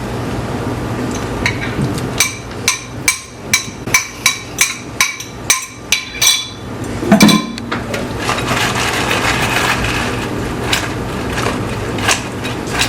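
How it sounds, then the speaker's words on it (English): Fried chicken wings being tossed in sauce in a bowl make a regular series of sharp clinking knocks about once a second, followed by a softer, continuous sloshing rustle. "Now they're ready to be tossed in the sauce."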